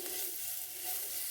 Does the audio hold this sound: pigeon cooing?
no